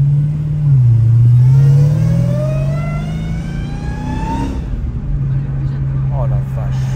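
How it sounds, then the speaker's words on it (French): A 1000 hp dragster engine revs loudly and close in the street, its pitch climbing and then settling, with a rising supercharger-style whine over the roar while people talk. "Et le bruit du compresseur."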